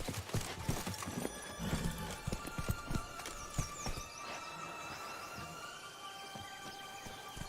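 Horse hooves galloping in The Witcher 3, a rapid rhythmic clip-clop of hoofbeats close by, strongest in the first half and then settling into quieter steady hooves under a faint background.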